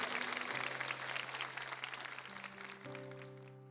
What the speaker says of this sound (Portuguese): Vamos aplaudir, irmãos, a palavra de Deus